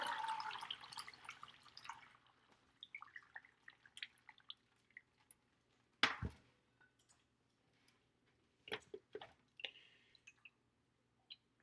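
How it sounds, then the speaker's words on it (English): Gravy and oil from a cooked brisket pour into a container with a soft liquid splash at first, followed by scattered drips, ticks and small clatters, faint and close in a quiet kitchen. "I'm going to pour it into here, and I'm going to let the gravy and the oil separate"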